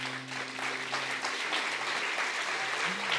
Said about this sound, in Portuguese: Só os filhos do reino vão aplaudir.